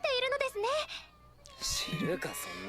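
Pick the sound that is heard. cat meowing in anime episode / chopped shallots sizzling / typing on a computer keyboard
cat meowing in anime episode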